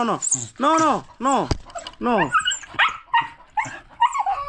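A dog barks close by in a series of sharp, loud barks and yips with short gaps between them, mixed with whimpering and a voice talking over it.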